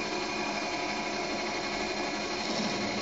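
Steady, continuous whirring and cutting noise of a Delrin alternator bushing being machined down to tolerance, unchanging and fairly loud throughout.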